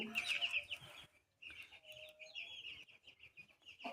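Chickens and chicks cluck and cheep close by, a busy flurry of bird calls that keeps going with a short lull partway through and no talking.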